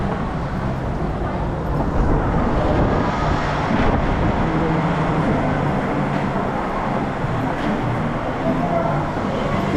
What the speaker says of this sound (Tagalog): lakas ng hangin pag ano